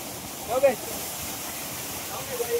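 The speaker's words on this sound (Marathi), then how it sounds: "जो आपल्याला खालतून धबधबा दिसत होता त्या धबधब्याच्या खालती आलोय आपण आता" A monsoon waterfall at Raigad fort pours foamy water in a steady, close, broadband roar heard from right beneath it, with faint voices briefly rising over the rush.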